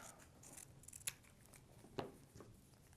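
Scissors cut a piece of cardstock in half for a paper coneflower craft, a couple of crisp, close snips in a quiet room, faint and alone.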